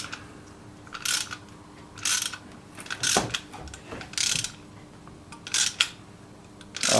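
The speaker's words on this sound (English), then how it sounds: "I use the socket number 17 for both sides, so let's compress it" Soft, steady ratcheting clicks from a 17 mm socket ratchet compressing the clutch of a Vespa PX scooter, coming in several separate runs of quick pawl ticks at close range.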